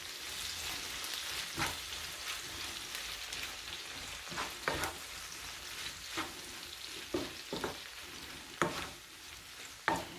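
Food frying in olive oil in a pan while being stirred, a continuous close sizzle broken by scraping and clacking stirring strokes at irregular intervals, with no speech.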